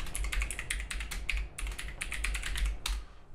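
Quick keystrokes on a computer keyboard while a file is renamed, a close, crisp run of clicks in bursts with short pauses, no voices.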